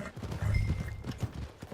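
Horse hooves clip-clop in a steady rhythm in a video game near the stables, moderately loud with a faint low rumble beneath them.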